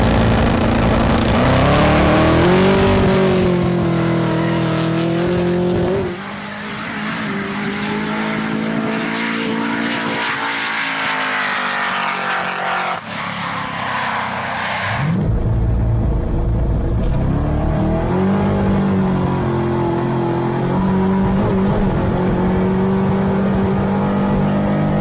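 A Ford Falcon drag car with up to 1,200 horsepower races on a runway drag strip, its engine a loud, sustained roaring rumble with rising and falling pitch, shifting and fading as it pulls away.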